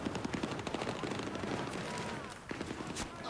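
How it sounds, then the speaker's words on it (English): Rapid gunfire in a Battlefield 3 combat scene, a dense rattle of automatic bursts close up, with a voice talking in places. "Ah, finally, some shooting."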